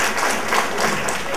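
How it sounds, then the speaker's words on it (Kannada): An audience at an educational and social foundation programme in Davangere applauds the children, a dense, continuous burst of clapping heard close and loud that holds steady from start to end. "ಮಕ್ಕಳಿಗೆ ಇನ್ನೊಂದು ಚಪ್ಪಾಳೆ ತಟ್ಟಿ"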